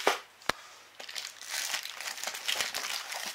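Red wrapping paper crinkles and rustles up close while a surprise parcel is unboxed, with one sharp crackle early on, then continuous crumpling.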